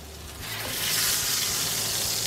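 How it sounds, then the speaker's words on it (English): A burger patty sizzling on a hot grill, the crackling hiss swelling and then holding steady and loud, with no talking. "Still sizzling, hot off the grill."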